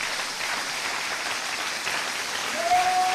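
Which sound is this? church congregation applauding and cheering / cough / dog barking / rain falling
church congregation applauding and cheering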